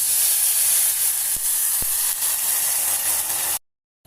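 Hot water poured into kaima rice frying over a high flame bursts into a loud, steady steam hiss that runs for about three and a half seconds, then cuts off abruptly.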